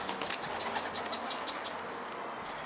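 A short-tailed homing pigeon flaps its wings in quick, rhythmic beats as it flies over Esenler, fairly close, alone and without voices.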